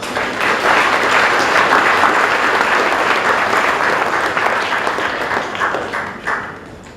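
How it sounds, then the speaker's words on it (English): A large presentation day audience applauds the student representative council, a loud, dense, sustained roar of clapping that holds steady for several seconds before slowly tapering off. "So another round of applause please for the SRC."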